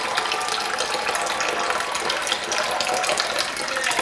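Water trickles and gurgles steadily through a small siphon running between measuring cups, a close, continuous bubbling flow with a faint mechanical rattle.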